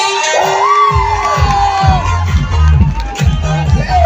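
An outdoor community crowd cheering and shouting with whoops and excited yells, loud and close, with a voice speaking over the start before the cheering swells.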